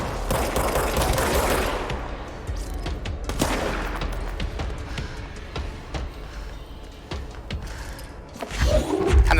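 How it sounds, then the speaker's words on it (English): Rockets and weapons fire in the video game Control, sounding as a dense, loud barrage of blasts and impacts that fills the scene, ending with a rising burst of noise. "Not nice to shoot rockets!"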